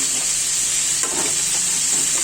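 Fish curry with pointed gourd is stirred in a hot frying pan, a continuous loud sizzle with a soft scrape of the spoon partway through and no talking.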